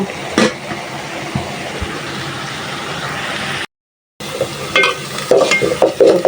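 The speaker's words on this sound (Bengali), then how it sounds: "রাইসগুলো হালকা একটু বেজে নিছি সয়াবিন তেলের মধ্যে চালগুলো দিয়ে দিয়ে দিয়ে রাখলাম" Rice grains being stirred and lightly fried in soybean oil for pulao, a steady soft sizzle under scraping stirs, with a brief silent gap and a few sharper clinks near the end.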